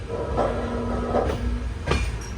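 A train rolls steadily toward a railway station, a continuous rumble with faint periodic wheel clicks and a thin squeal, heard from on board.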